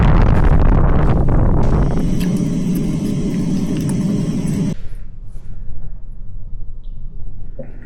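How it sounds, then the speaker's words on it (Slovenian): Strong wind roaring across a microphone during a winter climb of Skuta, 2532 m, loud and buffeting at first, then easing into gusty, lower rumbling. "Sam zdaj ga pa tlele ful piha."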